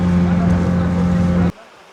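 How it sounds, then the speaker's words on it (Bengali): A speedboat crossing the open Bay of Bengal toward Char Bijoy off Kuakata: a loud, steady engine drone fills the first second and a half, then cuts off abruptly, leaving a faint background. "একেবারে বঙ্গোপসাগরের বুক ছেড়ে ছুটে চলে আমাদের এই স্পিডবোট।"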